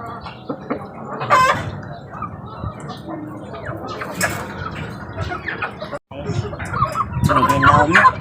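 Pet chickens cluck and call close by as they drink vitamin water, with scattered squawks and clucks throughout and a person speaking faintly among them.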